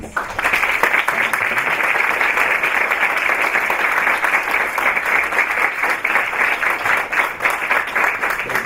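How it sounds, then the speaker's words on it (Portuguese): Audience applause at a conference session on reading and writing education: sustained, fairly loud clapping from a large room, dense and even throughout with sharper individual claps audible near the microphone. "pediria a todos um aplauso para os nossos três"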